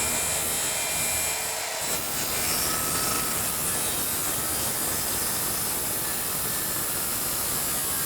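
Bumper backing wood is cut with a power saw, a loud sustained rasping hiss that starts after a short lead-in and runs steadily to the end.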